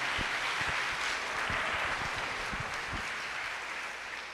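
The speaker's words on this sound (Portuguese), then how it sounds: "Gente, pode aplaudir, pode aplaudir." A church congregation applauds together, a steady crowd of clapping that stays fairly loud and even for a few seconds, with sharp low thumps scattered through it.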